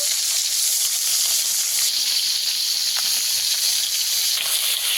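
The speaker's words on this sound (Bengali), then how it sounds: "এই মাছগুলোও ভালো করে ভেজে নেব।" Snakehead fish frying in hot oil, a steady close hissing sizzle that stays even and continuous, with no talking.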